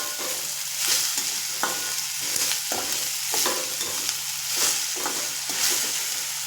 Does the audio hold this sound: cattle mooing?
no